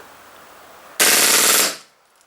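An airsoft Glock 18C pistol fires one rapid full-automatic burst lasting under a second, a loud dense stream of shots with no talking.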